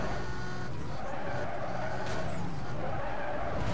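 Tires skid and slide under a roaring engine as a car drifts through a turn in Need for Speed Most Wanted (2005), a steady loud screech lasting throughout with no pause.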